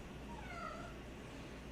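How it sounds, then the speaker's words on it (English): A pet cat named Miso, acting wild indoors, lets out one faint drawn-out meow over a steady background hum. "My cat is just going bonkers right now."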